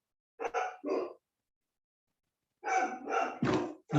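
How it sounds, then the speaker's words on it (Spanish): Dogs barking at a house as someone arrives: two quick barks, a pause of over a second, then three more sharp barks in a rapid cluster, fairly close and loud against silence. "No sé si el concierto de los perros lo escuchan o se va a frenar enseguida"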